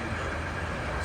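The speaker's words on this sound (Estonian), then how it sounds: "Siin sõidab mingisugune rong mööda." Train rolling past on a rail line beside a car stopped for refuelling in Germany, heard as a steady broadband rumble and roar that holds at an even loudness through the whole second.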